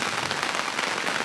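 Rain falling on an overcast day at a campsite in Clervaux, Luxembourg, a dense, even hiss of drops spattering on a surface, steady and fairly loud throughout.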